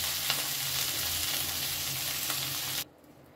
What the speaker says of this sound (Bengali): এঁচোড়টা আমি এইভাবে একটু শুধু নুন দিয়ে ভেজে নিলাম।